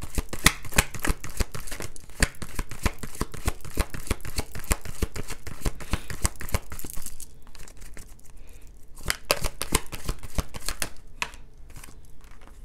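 Tarot cards are shuffled by hand in quick, rapid riffling bursts, close and crisp, with a short pause before a final few flicks and taps.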